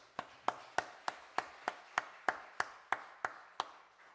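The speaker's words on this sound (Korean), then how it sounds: "박수로 먼저 영광 돌립니다." A church congregation at a Sunday worship service claps together in a steady, even rhythm, about a dozen sharp claps roughly three per second, moderately loud over a quiet room.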